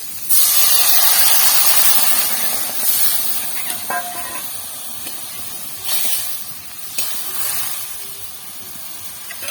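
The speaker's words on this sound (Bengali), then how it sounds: "আর এবার আমরা দিয়ে দিচ্ছি জল" Water poured into a hot pan holding fried potatoes and fish, bursting into a loud, broad hissing sizzle that eases and swells in waves, with a couple of faint clinks.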